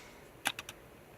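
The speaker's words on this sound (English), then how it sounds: "I hear my little camera like adjusting the focus" A small camera's autofocus motor adjusts focus with three quick, soft mechanical clicks close to the microphone, alone against a quiet room background.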